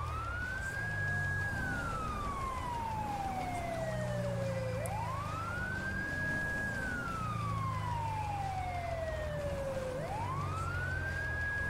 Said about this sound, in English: We'll have our siren on to let people know we're coming.